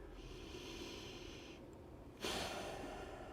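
A steady, soft exhale during a yoga core flow, followed by a sharper, louder breath out, close to the microphone with no talking.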